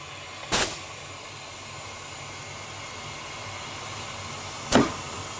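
An edge bander machine hums steadily as it feeds a short strip of edge tape onto a board, broken by two brief, sharp bursts, one near the start and one near the end.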